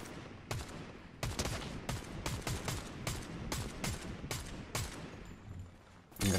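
A gun fires repeatedly in Fortnite, a dozen or so sharp, evenly spaced shots, close and loud, with no voices over them.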